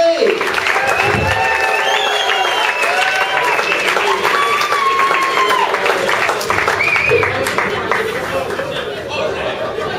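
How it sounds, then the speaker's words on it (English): A comedy club audience applauds and cheers as a comedian is introduced, with dense sustained clapping, whoops and crowd chatter throughout, fading slightly near the end. "So will you please start your applause?"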